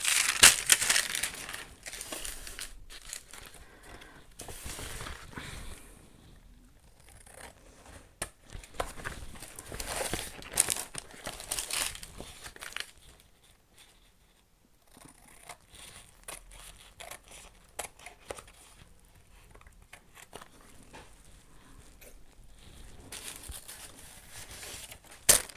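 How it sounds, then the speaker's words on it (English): Scissors trim around the edges of a paper piece for a collage book, with close, uneven bursts of snipping, crinkling and rustling paper separated by short quiet pauses. "let me trim around the edge"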